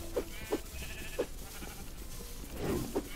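Sheep bleat in a video game, several short, fairly clear calls spaced irregularly over a low ambient background, with a louder cluster near the end.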